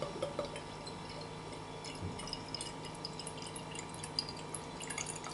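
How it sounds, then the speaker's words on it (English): Beer from a 500ml bottle of 8.9% brew trickles and drips into a glass, a soft, close liquid pour with faint splashes over a low steady background hum. "Right. After, let's pour and have a look."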